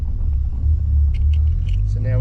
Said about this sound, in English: we're going to go quickly because this car's a little bit loud